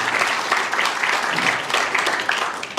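Comedy club audience applauding comedians Trey and Spence: a steady, dense wash of clapping that stays loud and even for a few seconds, with no voices on top.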